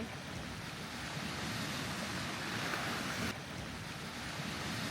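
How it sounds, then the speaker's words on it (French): Ocean waves wash and roar continuously against a shore, with a steady broadband rush and some wind buffeting the microphone. "Bruit des vagues."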